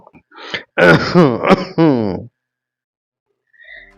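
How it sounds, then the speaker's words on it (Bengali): A single voiced throat-clearing cough, close and fairly loud, in a short rough burst followed by quiet. "হঠাৎ পেছন থেকে কাশি শোনা গেল"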